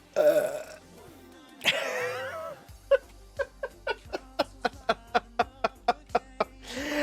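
A person lets out a long, loud belch after sipping soda through a straw, followed by a quick, evenly spaced series of short, laugh-like bursts before the sound trails off.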